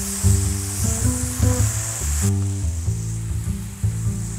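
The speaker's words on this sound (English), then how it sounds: "You have to cook this in the high flame, but make sure the bottom is not burnt." Okra stir-frying in a pan over a high flame for a South Asian tempered okra dish, giving a steady bright sizzle throughout with intermittent stirring clatter underneath.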